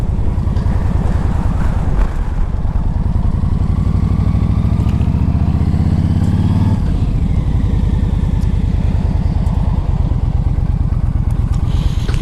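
A 2009 Yamaha V Star 1300 motorcycle being ridden, its engine a loud, close, steady rumbling throb that rises in pitch through a gear and then drops, with wind buffeting the microphone throughout and no talking.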